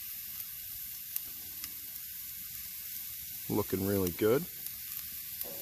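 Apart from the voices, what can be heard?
venison heart sizzling on a grill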